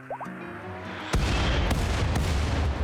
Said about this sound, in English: we put our latest gift into good use and fired all 3 mortars in unison